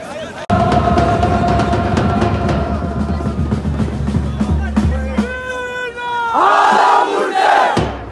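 Dense crowd of Crazy Boys football ultras chanting together at a celebration of the group's 13th anniversary near Mohammed VI, loud and sustained throughout, with voices layered into a continuous roar and a brief dip before rising again.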